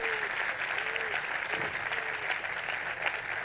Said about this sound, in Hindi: यस, जोरदार तालियां।